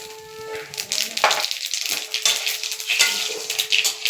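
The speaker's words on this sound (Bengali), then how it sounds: "এখন আমি তেলে জিরা ফোড়ন দেব।" Cumin seeds crackle and sizzle as they hit hot oil in a home kitchen pan, a steady bright fizz with a few sharp spits and pops, close and fairly loud, while a person talks briefly over it.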